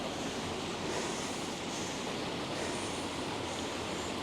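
Water rushes steadily through a canal bywash beside a narrowboat mooring, a constant broadband roar that stays close and even with no talk.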